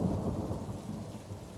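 Thunder rumbles low and long through steady rain on a dark night, a soft continuous wash of rainfall under the fading roll, quiet and without voices.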